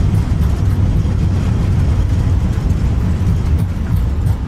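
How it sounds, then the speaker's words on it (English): Simulated A320 engines roar in reverse thrust after touchdown, a loud, dense, unbroken rumble that holds steady throughout and is heard close up without speech. "Reverse thrust."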